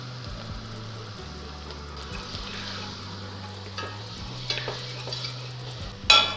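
Flour being stirred into frying onions in a pan, quiet low sizzle with soft spoon scrapes and a few clinks, ending with a louder knock against the pan, steady hum underneath.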